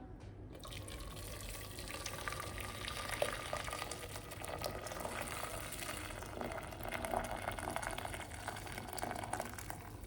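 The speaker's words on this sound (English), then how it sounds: "Then let's add boiled water." Boiled water being poured into a pot holding a pig's tongue seasoned with salt, soy sauce, sugar and cooking wine, a soft continuous splashing stream heard close and fairly quiet.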